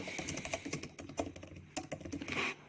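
Close, quick tapping on a computer keyboard, with irregular keystrokes at a steady pace and no talk.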